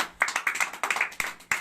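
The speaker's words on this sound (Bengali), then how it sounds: "আবার একটা জোরে হাততালি পাবে।" Claps from a small group in a drawing class come in a quick burst of sharp, separate slaps, irregular and close by, rising and fading in short clusters rather than a full roar of applause.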